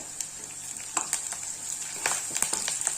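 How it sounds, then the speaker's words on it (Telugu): A sprig of curry leaves frying in oil for brinjal curry gives a soft, continuous crackle broken by a few sharper pops, close and fairly quiet. "ఇప్పుడు ఒక రెమ్మ కరివేపాకు వేసుకోవాలి"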